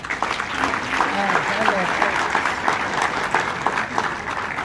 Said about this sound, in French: que je vous propose d'applaudir.